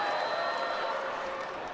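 A fencing crowd jeers at a fencer who is berating the referee, a steady, dense wash of booing and shouting that holds at constant loudness throughout the short moment.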